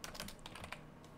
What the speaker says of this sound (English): just start typing